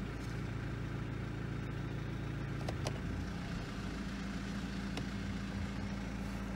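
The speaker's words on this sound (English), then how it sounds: "So now we're going to start the engine and run it up." A Mercedes-Benz engine idles steadily with its 722.9 7G-Tronic transmission running during a fluid check, a low continuous hum with a couple of sharp clicks partway through.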